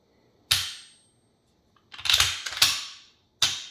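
Sharp metallic clicks and clacks from a Silver Eagle Tac Pro 12-gauge shotgun being dry-fired and handled: a single snap, a quick cluster of rattling clacks, then another crisp click, close and loud in a quiet room.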